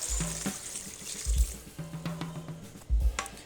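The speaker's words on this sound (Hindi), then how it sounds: "अब इसमें शामिल करेंगे तकरीबन 2 लीटर पानी" Water pours into a pot of beef trotters being cooked for paya, splashing in uneven bursts with a low gurgling rush that comes and goes, close by and moderately loud.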